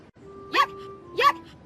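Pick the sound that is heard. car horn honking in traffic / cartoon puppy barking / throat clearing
cartoon puppy barking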